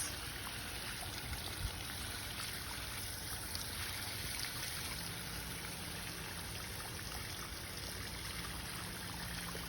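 A garden hose runs water onto a potted tomato plant, a steady soft rushing and trickling stream that continues evenly and fairly quietly from start to end, with no talk.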